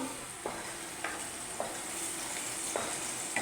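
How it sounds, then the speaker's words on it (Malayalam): Chopped banana stirs in a hot pan for a Kerala prathaman. A soft, constant sizzle runs beneath four or five distinct scraping spoon strokes that recur at roughly even intervals, close up, with no voices. "അരിഞ്ഞു വെച്ച പഴം നമുക്ക് ഇതിലോട്ട് ഇട്ട് കൊടുക്കാം ഇനി ഇളക്കി കൊടുക്കാം"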